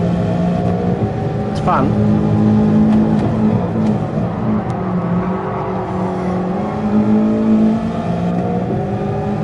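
A Toyota 86 in Gran Turismo Sport on PS5 is driven hard, its engine revving high and climbing through gears in a loud, continuous drone while someone comments briefly over it.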